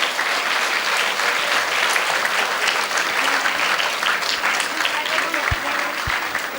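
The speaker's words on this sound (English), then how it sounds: "I think 8A and B deserve a huge round of applause." A school assembly audience gives classes 8A and B a huge round of applause, steady dense clapping from a large crowd sustained throughout, with a couple of low thumps near the end.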